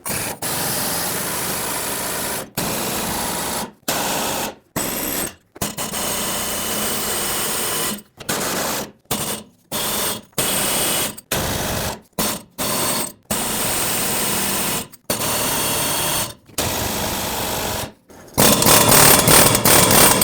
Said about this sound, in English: So I'm going to put a power tool on here because it will be a whole lot easier.